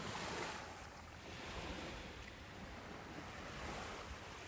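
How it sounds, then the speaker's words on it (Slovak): Sea waves rush in the distance as a steady broad hiss, soft and continuous, with wind noise over the microphone and no voices. "Možno v pozadí počujete šumieť more."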